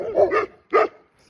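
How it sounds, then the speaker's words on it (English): A big dog on a farm gives two or three loud, close barks in quick succession, with a short gap before the final bark. "Big ass dog behind me barking."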